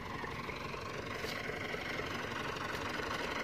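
A steady, rumbling Massey 240 tractor engine idles close by while pulling a loaded trolley in deep sand, a continuous low drone with a faint vibrating texture and no voices.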